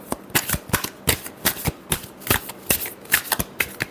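Tarot cards shuffled by hand in a quick, steady rhythm of crisp riffling bursts, close and clear, repeating about twice per second with no talking.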